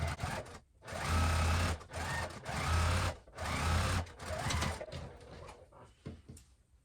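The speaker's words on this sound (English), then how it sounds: "Now we're going to go ahead and stitch down this way." A sewing machine stitches a fabric pint cozy in several loud, close bursts of rapid mechanical whirring, separated by short pauses.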